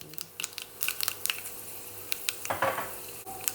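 Mustard seeds and fenugreek land in hot coconut oil in a pan, giving a soft sizzle with scattered sharp crackles and pops spread across the moment, close and fairly quiet.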